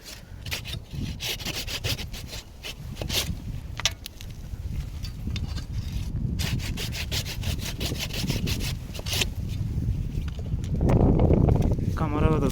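A hand saw cuts through an olive branch being prepared for grafting, with close, rhythmic back-and-forth rasping strokes that run throughout and grow louder and heavier near the end.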